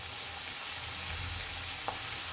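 Onions sauté in a pan with an even, moderate frying sizzle and a single light utensil scrape near the end, no voices.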